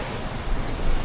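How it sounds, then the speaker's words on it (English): Rough open water with broad, steady wave and surf noise under gusting wind, moderately loud and continuous outdoors, with no voices. "Look at that water. Water is looking very rough."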